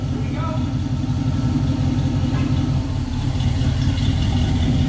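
A 1966 Pontiac Catalina wagon engine runs at a steady idle, a low, even rumble holding close and constant with no changes in pitch.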